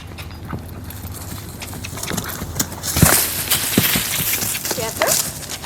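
A horse cantering under tack, its hoofbeats thudding in an uneven rolling rhythm against a noisy outdoor background, growing louder toward the middle, with no clear talk.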